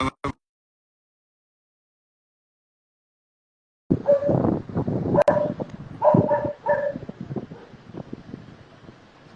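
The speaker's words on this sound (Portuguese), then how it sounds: "Tem cachorro, tem gente passando lá atrás." A dog barks repeatedly in the background outdoors during a live broadcast, a brief sound at the start and then a busy stretch of barks and yelps over wind noise on the microphone, with no clear talking.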